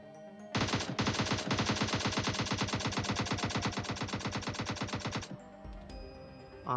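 Full-auto AK rifle fire in the PUBG video game, one long unbroken burst of rapid, evenly spaced loud shots lasting several seconds, close and dominant, followed by a brief quieter tail.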